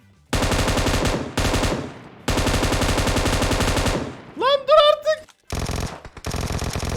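Rapid automatic gunfire from PUBG Mobile comes in long bursts separated by short pauses. A voice is heard between bursts, and the shooting is loud and close.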